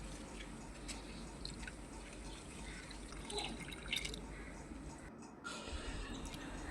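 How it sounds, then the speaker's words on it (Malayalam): Water being poured onto freshly repotted plants as a steady, fairly quiet splashing and trickle, with light drips near and a little background noise. "പ്ലാന്റ്സിന് കുറച്ച് വെള്ളം ഒഴിച്ചു കൊടുക്കാം."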